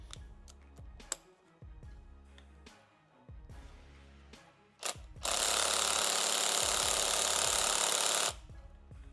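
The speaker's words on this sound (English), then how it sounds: "we're gonna set the gun to a soft setting" Pneumatic impact gun on a soft setting drives fasteners on the suspension of a 2024 Harley-Davidson Road Glide, first in short clicking bursts, then one loud sustained rattling run of about three seconds, up close.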